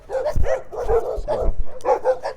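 A dog barks in quick, repeated, fairly close bursts from behind a fence during a morning walk, as it tries to hop over. A few whimpering yips mix in, and there is no talking.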